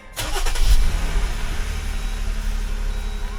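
A 2020-2023 Jeep Wrangler engine cranks briefly and catches, then settles into a steady low idle, loud and close with no talk.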